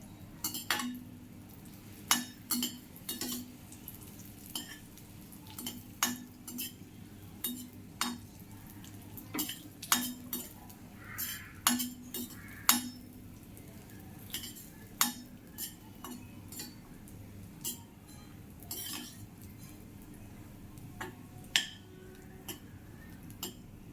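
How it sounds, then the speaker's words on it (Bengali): Cashews being lightly fried in a pan for payesh, with frequent sharp clinks of a spatula stirring against the metal over a faint low sizzle, steady scattered taps throughout, close but quiet. "কাজুটা হালকা ভেজে নেব"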